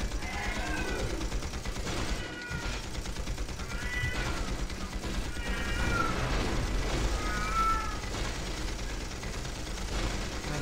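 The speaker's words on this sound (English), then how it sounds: "I do apologize for the cat in the background." A cat meows repeatedly in the background, several drawn-out cries over a busy backdrop of team-based action game sounds including gunfire, steady and fairly loud throughout.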